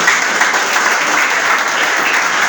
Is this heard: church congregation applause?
yes